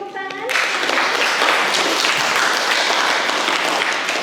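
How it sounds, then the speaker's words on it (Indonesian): A classroom audience breaks into steady, fairly dense applause right after a brief spoken prompt, the clapping holding at an even level for several seconds. "Oke, beri tepuk tangan."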